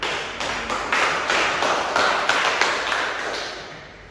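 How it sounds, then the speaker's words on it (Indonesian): Audience applause at a classroom microteaching session, a dense burst of many hands clapping together that holds steady and then fades out over a few seconds, with no talking. "Mari kita kasih aplaus untuk pemimpin-pemimpin yang telah menjawab pertanyaan."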